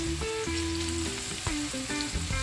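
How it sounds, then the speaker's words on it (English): Onions sauté in a pan, giving a steady close sizzle and crackle while they are stirred now and then, and high whistling tones glide over the frying; no one speaks. "saute my onions a little bit."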